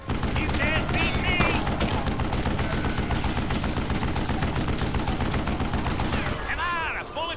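Continuous gunfire in the Western shooter game Call of Juarez: Gunslinger, dense rapid volleys of shots filling the whole stretch, loud and close, with game voices briefly heard over the shooting.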